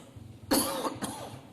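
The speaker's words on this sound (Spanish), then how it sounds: "Yo tengo aquí un poquito de tos." Two quick, close coughs, one after another, in a quiet room.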